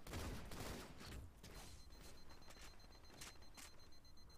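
Shotgun fire in Halo MCC ranked team slayer: loud, heavy booming blasts crowd the first second and a half, followed by fainter repeated shots and game noise.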